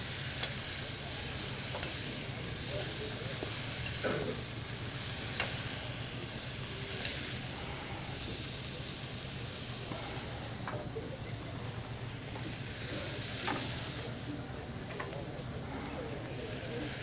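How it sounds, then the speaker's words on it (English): A live Jersey lobster sizzles in a hot pan or wok, giving a dense, continuous hiss of frying that stays loud and steady throughout, with occasional crackles and pops. "This is a very Asian way of cooking lobster, right? Live, right into a pan or a wok."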